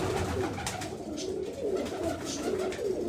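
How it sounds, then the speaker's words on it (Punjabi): Pigeons gathered nearby coo in repeated soft, throaty rolls that overlap one another, fairly close and moderately quiet, with no other sounds standing out. "ਆ ਗਏ ਸਾਰੇ ਕਬੂਤਰ"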